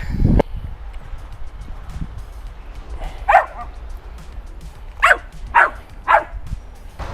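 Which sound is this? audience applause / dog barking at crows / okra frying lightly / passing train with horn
dog barking at crows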